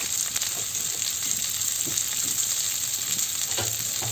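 Kangkong sautéing with tofu and pork in a pan, a steady broadband sizzle with scattered scraping stir strokes, close and constant throughout.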